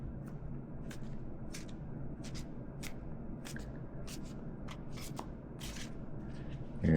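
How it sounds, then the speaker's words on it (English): Tarot cards shuffled by hand, producing a steady run of close, crisp riffling and flicking bursts that repeat every half second or so, with no talking. "We're going to mix them up a little more."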